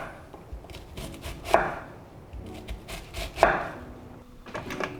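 A knife chops peppers and onions on a cutting board in a home kitchen, with a few soft, spaced cuts and two sharper knocks, fairly quiet and close with no talking.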